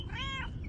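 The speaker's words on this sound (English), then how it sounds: "this cute little kitty came up" A single short, faint meow from a small cat, rising and falling over half a second against low background rumble.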